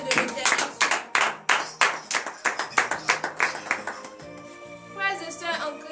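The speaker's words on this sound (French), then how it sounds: "nous allons nous lever sur nos pieds et donner de vives acclamations à la grandeur de l'Éternel" A church congregation at a Saturday morning prayer service in Benin claps in acclamation, a fast rhythmic run of close hand claps that later gives way to voices singing or speaking.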